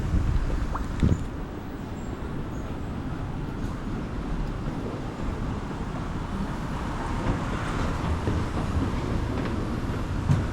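Steady wind rushing outdoors in Vladivostok, a constant low roar with occasional faint clicks and bumps, no voices.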